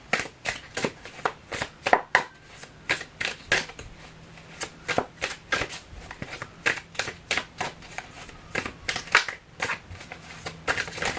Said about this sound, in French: Je vais prendre une carte du Luminataro et vous dire un petit peu ce qui se dit.